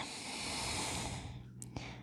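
Close, soft breathing during a yoga forward fold, a steady airy exhale ending in a short snort-like breath.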